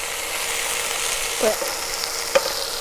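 Chinese kale with oyster sauce is stir-fried in a pan, making a dense, steady sizzle close by, broken by a couple of brief utensil clinks and scrapes; no one speaks.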